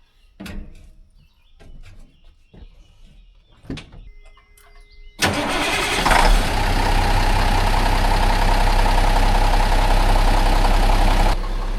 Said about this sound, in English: let's fire up the Bulldog here and go pick it up